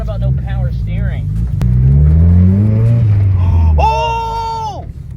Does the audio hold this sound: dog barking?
no